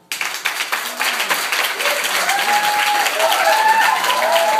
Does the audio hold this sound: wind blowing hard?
no